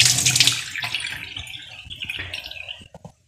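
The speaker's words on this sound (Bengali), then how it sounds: "হাতটা ধুয়ে" Tap water runs and splashes over hands being washed at a kitchen sink after rubbing spices onto pomfret fish, a loud broadband rush that gradually tapers off, ending with a couple of small drips and clinks.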